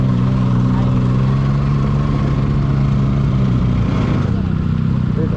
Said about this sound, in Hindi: सबै बाइकको साउन्डले खाइदिइसक्यो मेरो भोइस